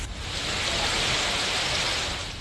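Heavy monsoon rain falling in Mumbai, a dense, steady roar of downpour, loud and unbroken with no voices.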